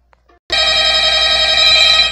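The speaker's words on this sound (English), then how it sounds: "Wait, Drew, you're ringing!" A telephone ringtone starts abruptly after a couple of faint clicks and rings loudly and steadily with a bright, tonal, electronic buzz, close and alone.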